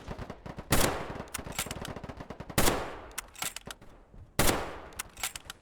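Loud gunfire from the low-poly first-person shooter POLYGON, with an AK-12 assault rifle in use: rapid automatic bursts crackle throughout, punctuated by three heavy, booming shots at regular intervals, with no voices.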